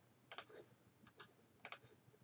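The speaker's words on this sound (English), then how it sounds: "So I'm going to click here and I'm going to select folder." Computer mouse clicks sound close and crisp in a quiet room, two distinct double clicks about a second apart with a softer tap between them.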